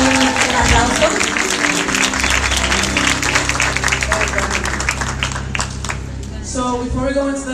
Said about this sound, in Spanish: Let's give these graduates a round of applause.